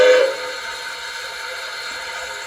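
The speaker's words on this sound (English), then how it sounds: "which is a short whistle." One brief toot from an LGB Sumpter Valley model steam locomotive's Zimo sound whistle, loud and close, followed by a soft lingering steam hiss, with no voices.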